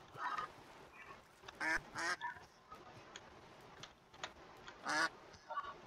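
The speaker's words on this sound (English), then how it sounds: "I thought you could put a duck in a bucket." A duck in the Minecraft video game gives a series of short, nasal quacks in bursts over a quiet background, some louder and some softer.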